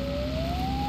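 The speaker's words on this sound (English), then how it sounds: "turn off our sirens, of course" Police car siren in The Long Drive video game, a steady rising electronic wail held loud and continuous through the short moment over a low engine rumble.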